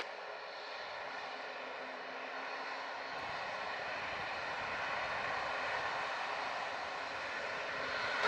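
Steady, fairly distant airplane engine drone at Montego Bay airport, a broad even roar that swells slightly toward the end, with no talk.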